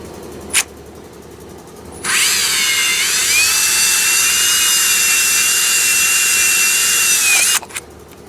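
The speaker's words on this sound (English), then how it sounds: "Then we're gonna drill a hole." A power drill bores a hole in a part for a front-mount HEI distributor build on an LS 5.3, one steady high whine of about five seconds that starts and stops abruptly, close and loud with no talk over it.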